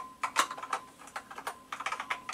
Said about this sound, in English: type quite fast on this very nice keyboard